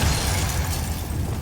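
Incendio fire spell cast in the Hogwarts Legacy video game, a dense, steady roaring whoosh with heavy low rumble sustained loudly through the moment.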